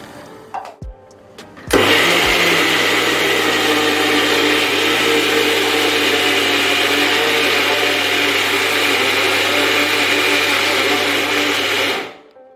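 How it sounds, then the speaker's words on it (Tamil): A kitchen mixer grinder runs steadily and loudly for about ten seconds while grinding chickpeas into a thick paste for gravy, its motor whining and whirring continuously before abruptly stopping. "அடுத்தது கொண்டக்கடலை எடுத்து கொஞ்சம் மிக்சியில சேர்த்து அரைச்சிக்கலாம்"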